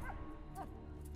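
A dog in Valiant Hearts gives a couple of brief soft yips and whimpers, faint under game music.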